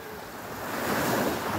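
Ocean surf breaking on a beach at dawn, a steady broadband wash of waves with wind noise on the microphone, swelling slightly louder toward the end.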